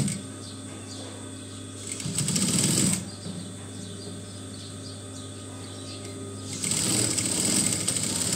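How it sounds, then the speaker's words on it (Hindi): A sewing machine stitching a fabric strip for button loops on a kameez neckline runs with a steady whirring drone, speeding up into louder bursts twice. "अब हम इस पर ये पट्टी है इस तरफ और इस तरफ करके ये सिलाई लगाएंगे यहाँ।"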